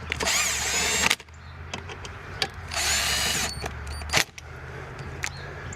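Power drill running bolts down snug on a 1971 Buick 455 V8 engine, two long loud whirring bursts with a short buzz between and a final brief one, with no talk.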